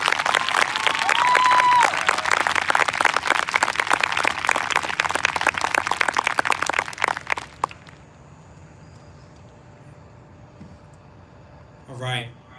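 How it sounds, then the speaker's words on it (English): Applause and some cheering from a crowd at a campus vigil fill the first eight seconds with dense, steady clapping, then die away into quiet room tone with a brief voice near the end. "Can we have one more round of applause for Ashanti, please?"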